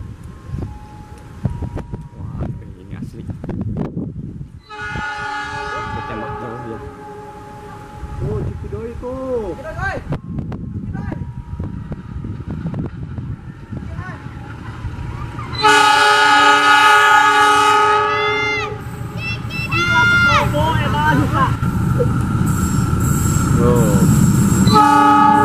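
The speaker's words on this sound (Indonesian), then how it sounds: "Kereta yang dari utara ke selatan." A passenger train runs north to south on a Javanese line, rumbling past with repeated loud horn blasts, long sustained tones near the end, while people talk over it.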